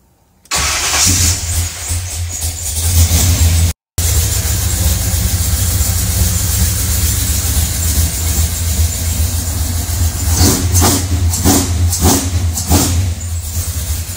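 A Malibu wagon's engine cranks and catches, then settles into a loud, steady run nearby, with a brief cut partway and a few revs near the end; nobody speaks.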